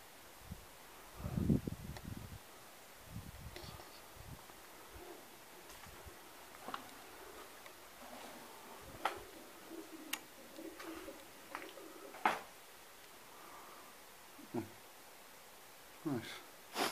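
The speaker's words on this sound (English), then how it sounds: "Yep, there's a bird." A bird coos inside an abandoned hospital in Bangor, North Wales, a soft, low call near the start followed by faint scattered clicks and knocks in the quiet, echoing room, with voices speaking now and then.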